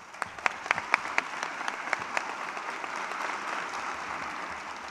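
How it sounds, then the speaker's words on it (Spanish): A theatre audience breaks into applause, with sharp individual claps standing out at first before merging into a fuller, steady clapping that gradually softens. "Ese aplauso para él."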